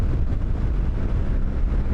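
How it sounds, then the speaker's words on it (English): Steady, loud wind rush buffets the microphone while riding a BMW R1300GS motorcycle, a continuous low roar with no pauses and no voices over it. "It's windy out and it's cutting through the wind"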